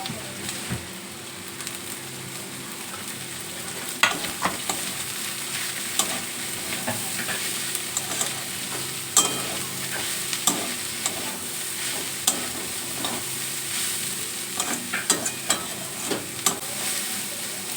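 Shredded cabbage stir-fries with browned onions in a hot pan, a steady sizzle broken by irregular clacks and scrapes of a spatula stirring the vegetables, with no talking.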